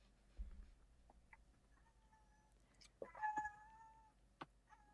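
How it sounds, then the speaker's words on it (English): An indoor cat gives a few faint meows, then a longer wailing cry midway, followed by a short final call over quiet room background. "Yes, that is my cat"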